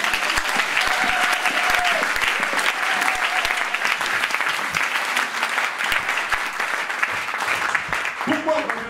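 A church congregation claps continuously, a dense, loud wash of hand claps filling the room for several seconds, with voices and scattered shouts rising through it.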